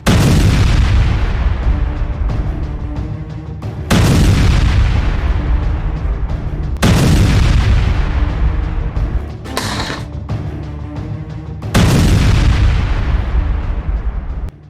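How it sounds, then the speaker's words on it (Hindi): Rocket attack on a military tank in Hezbollah strike footage: a series of loud, heavy booming blasts roughly every three seconds, each decaying into a rumbling roar, with a brief sharper crackle in between. "जिसमें जोरदार धमाका होता है।"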